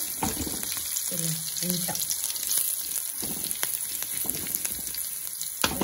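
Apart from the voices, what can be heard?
food frying in a pan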